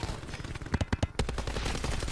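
Gunfire erupts in the video game Black Ops 4, with a quick cluster of sharp shots in the middle of the moment over a constant background game din, fairly loud and without speech.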